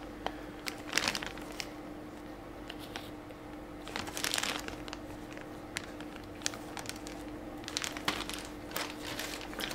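A thin plastic bag crinkles in quiet, scattered bursts as a 1/35 scale Hobby Boss Soviet T-37 amphibious light tank turret is handled through it. The handling is close and soft, with clusters of rustling separated by brief pauses.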